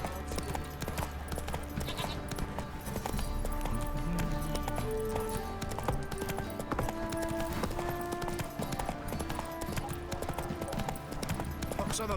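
Roach the horse galloping through The Witcher 3, a steady run of clip-clop hoofbeats close up, laid over game music and ambience with a spoken voice in places.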